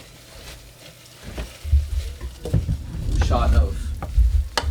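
A sizzling pot being stirred, with scraping and spoon knocks over a bubbling frying hiss, close, and a few brief spoken words partly over it.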